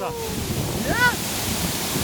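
Roaring waterfall with spray of water falling nearby, a steady broadband rush filling the whole clip with a faint whistling tone partway through.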